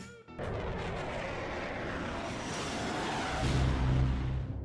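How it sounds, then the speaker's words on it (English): A sustained, heavy rumbling roar that swells toward the end, deep and booming like a distant blast rolling across open ground: a sonic boom from a supersonic aircraft echoing across a Southern California desert. "The sonic boom, a sound that echoed throughout a Southern California desert"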